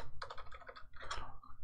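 Quick keystrokes tap out a server path on a computer keyboard, a short close burst of clicks with a small gap in the middle.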